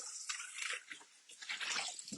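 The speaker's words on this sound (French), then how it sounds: "Je vais rincer et on est prêt à recommencer" Water splashes and swirls as a Thermomix bowl is rinsed, a continuous close wet rush with brief gurgles and drips.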